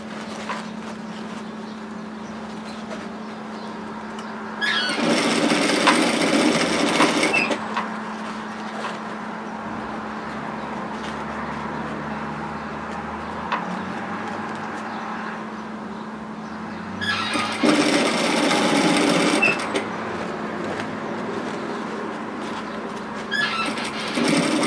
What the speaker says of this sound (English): And stitch it down.